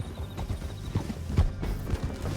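A horse gallops in the video game Red Dead Redemption II, its hoofbeats pounding in a fast, steady rhythm under a busy, dense game mix.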